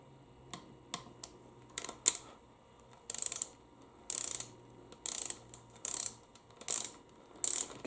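A torque wrench ratchets bolts on a 2002 Lexus RX300 U140 transmission, with short ratchet clicks and then a run of louder sharp ratcheting bursts in a steady rhythm, close by with no talking.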